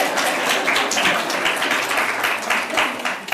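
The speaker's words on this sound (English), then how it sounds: "Give me a round of applause," Audience applause at a talk about creating safe spaces for kids, a brief burst of clapping from a room of listeners, fairly steady and moderately loud throughout.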